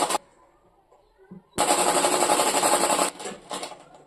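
A sewing machine stitches a shirt collar band in one loud, close burst of rapid needle chatter lasting about a second and a half, after a quiet pause and followed by a few softer stutters.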